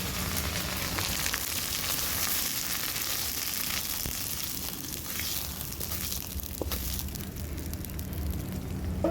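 Ginger paste tempering with green chillies poured into khichuri sets off a sustained, busy crackling sizzle that fills the whole stretch evenly, close and moderately loud with no talk.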